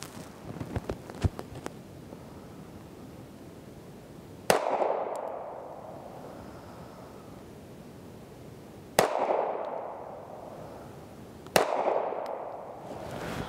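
A Kimber Micro Raptor .380 pistol fires outdoors: three loud, sharp shots spaced a few seconds apart, each with a short ringing tail, after some faint earlier clicks and taps.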